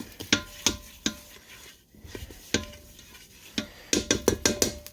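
A spoon stirs garlic shrimp in a pot, producing soft scraping and rubbing punctuated by sharp metallic clinks and taps, close and fairly quiet, with a quick cluster of clinks near the end.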